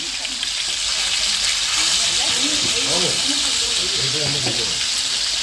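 Steady hissing sizzle of large pieces of river fish frying on a hot griddle, with voices talking faintly over it.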